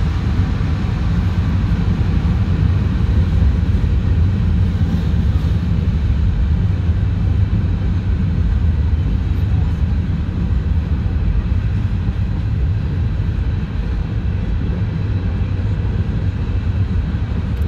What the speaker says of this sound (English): 767 and 5478 freight train.